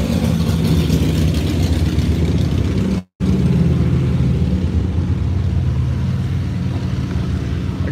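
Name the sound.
group of motorcycles driving by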